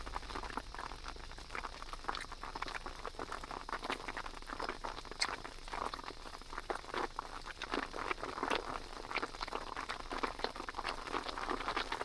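Light rain pattering down again at a snowy winter campsite, a faint steady patter of soft drops with scattered small taps, no voices.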